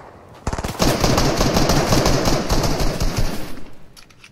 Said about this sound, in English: I just heard shots again.